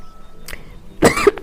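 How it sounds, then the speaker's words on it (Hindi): A single sharp cough bursts out close up after a moment of near silence, followed by a brief throaty catch. "अचानक से खांसी आ गई मुझे"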